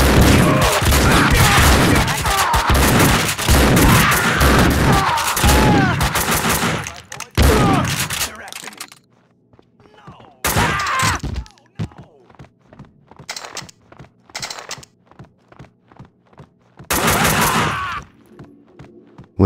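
Gunfire in the video game Max Payne 2: dense rapid bursts and booming shots early on, then sparser sharp single shots and thuds separated by quiet gaps, with a final loud burst near the end.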